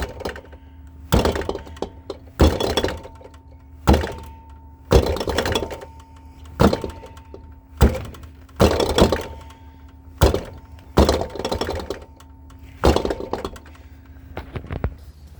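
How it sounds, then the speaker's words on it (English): A Kenmore Elite refrigerator with a bad compressor is kicked about a dozen times, giving heavy, close thuds with short clattering tails, spaced roughly a second apart, and no talking between them. "if you kick this compressor, it starts rattling something fierce"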